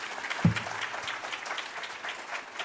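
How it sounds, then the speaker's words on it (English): Applause from a conference plenary audience, a steady wash of many hands clapping at moderate distance, with one sharper knock early on. "That's a clap."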